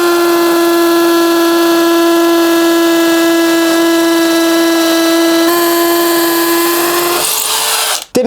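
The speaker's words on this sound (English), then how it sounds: "we're going to drill into this brick wall with a 7mm masonry bit" A hammer drill with a 7mm masonry bit whines at a steady pitch as it bores into a brick wall, then winds down and stops near the end.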